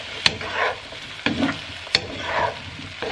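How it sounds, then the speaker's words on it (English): Chorizo, potatoes and veggies frying in a pan, a soft continuous sizzle broken by three sharp clacks of a utensil hitting the pan and scraping strokes as the mix is stirred up close. "And now we're gonna stir this."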